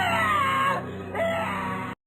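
A person in an animated Hindi horror cartoon screams in fright: one loud, sustained, high-pitched cry with a brief break in the middle that cuts off abruptly.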